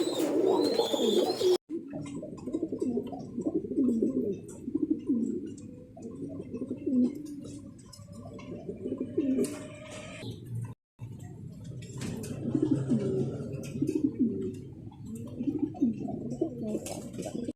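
Pigeons at a seller's loft coo repeatedly in low, throaty rolling phrases, close and continuous with brief gaps, with faint background noise.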